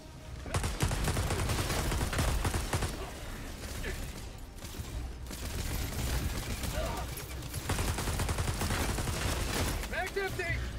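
Sustained video game gunfire with bursts of automatic fire and shots, loud and dense throughout, with a voice calling out over the shooting.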